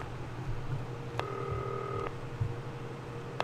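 Telephone dialing in the video game Not For Broadcast: a sustained dial tone runs under two clear keypad tones, one long and one brief at the end, with no talking.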